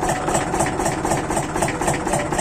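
A Hycam V6 6000cc engine idles close by with a steady, rumbling, evenly pulsing rhythm and no other sounds.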